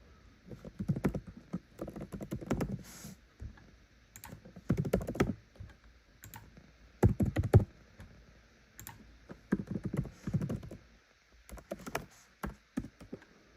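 A password being typed on a computer keyboard: irregular bursts of key clicks and taps with short pauses between groups, close and distinct, with no speech.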